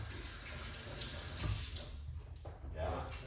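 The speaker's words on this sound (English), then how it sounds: "rinse off the hand" Tap water runs steadily into a kitchen sink while a hand is rinsed after handling watermelon, lime and fresh ginger, a close, continuous splashing hiss with slight surges as the hand moves under the stream.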